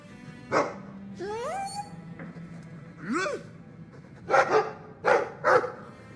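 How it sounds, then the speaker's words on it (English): Dog barking in the video game Dragon Age 2: a few sharp barks and yips spread across the moment, mixed with whimper-like rising tones, with faint game ambience and no talk over it. "I like the doggy."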